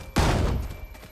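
A single sharp burst of video game gunfire hits hard and loud, then trails off in a quick rattle and fades.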